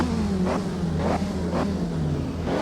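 A 1967 Tasman Series race car engine in the Assetto Corsa sim at Teretonga, droning loud and close with a low steady hum and repeated rising rev surges roughly every half second.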